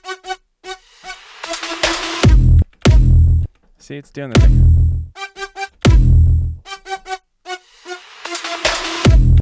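A Serum synth patch run through the Hyperdimension effect plays a bright, wide, chorused melodic line in a dance production, with heavy low-end hits recurring in a steady pulse; a voice speaks briefly over it.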